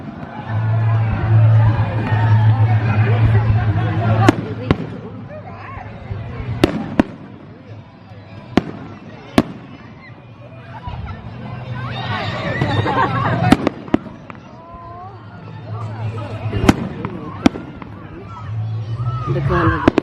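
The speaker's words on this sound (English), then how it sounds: "opening Christmas now. My fireworks." Fireworks exploding over a town at Christmas, a run of sharp bangs and crackles spread through twenty seconds, loud and fairly close, over crowd chatter and voices in the background.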